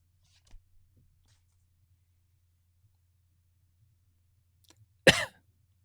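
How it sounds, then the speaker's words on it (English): A single short, slight cough breaks an otherwise quiet stretch, preceded by a few faint clicks. "a slight cough after a weak joke"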